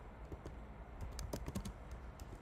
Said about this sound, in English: I can type, man.